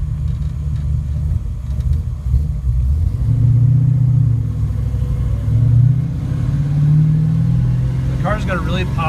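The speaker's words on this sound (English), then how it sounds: "it's definitely a muscle car. I mean, it makes a ton of power, and it's got a really nice rumble" A 1967 Chevelle muscle car's engine rumbles loud and close, a deep steady throb that swells and eases as the throttle varies, continuous throughout.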